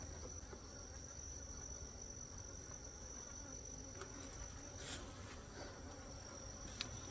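Agitated honey bees buzz around extracted hive frames, a faint, continuous high drone with a few individual bees passing close and briefly louder, no voices present.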